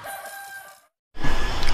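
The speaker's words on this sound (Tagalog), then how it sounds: "may mga manok" A rooster crows loudly and close in a short burst, cut off by a brief silence before another loud fowl call resumes.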